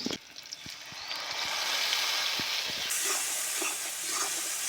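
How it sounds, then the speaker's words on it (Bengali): Garlic and onion fry in hot oil, a steady close sizzle and hiss with scattered small crackles and pops running throughout, with no voices. "রসুন, পেঁয়াজ, রসুন ভাজা ভাজা হয়ে গেছে"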